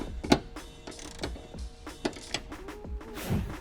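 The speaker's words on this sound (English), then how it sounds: "We're gonna take our 12mm wrench," A 12mm wrench ratchets in short clicking bursts while tightening a soft top assist mount on a Ford Bronco. The metallic clicks and knocks are close but fairly quiet, and no one speaks.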